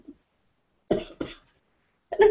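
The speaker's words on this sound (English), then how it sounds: "And I coughed." A person indoors coughs twice in quick succession after a brief quiet stretch, then gives a louder throat-clearing cough at the end, close and clear against silence.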